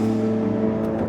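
Ferrari 12Cilindri with a naturally aspirated, non-turbo V12 revving hard, a steady dense engine drone held loud and close throughout with no speech.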